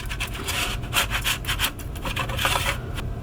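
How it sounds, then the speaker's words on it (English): A plastic scraper is dragged across a chocolate mould, pushing excess cacao butter off onto a sheet. The scraping sounds close and steady, in a few repeated rough strokes over a low background hum. "now I use my scraper, and I just scrape the excess cacao butter onto my sheet"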